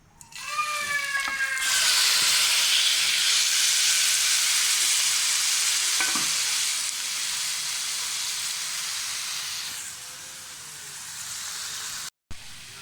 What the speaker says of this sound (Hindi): इधर पैन में थोड़ा सा ऑयल डालें और उसमें चिकन डाल दें